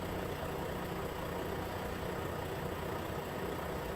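Car engine idling in a video game, a steady low rumble that holds constant throughout without talk.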